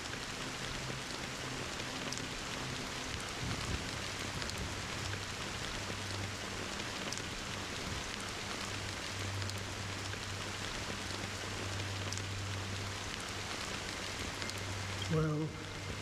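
Steady rain falls in the game Honkai Star Rail as a continuous even hiss with a low drone beneath it, staying constant and moderately loud throughout.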